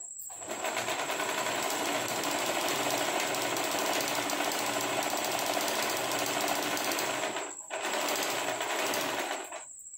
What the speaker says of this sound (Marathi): हे दोन्ही जे एंड आहेत इलास्टिकचे ह्यांना व्यवस्थित मशीनमध्ये लॉक करून घेते